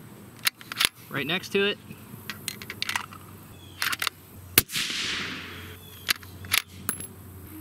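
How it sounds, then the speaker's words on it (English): Rifle shots at an outdoor shooting range during load development: a few sharp, isolated cracks spaced seconds apart, one especially loud with a lingering echo, while someone talks in between. "So I didn't see where that third shot went."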